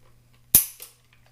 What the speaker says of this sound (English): since we have the snap caps in there, let's go ahead and check the trigger pull on the gun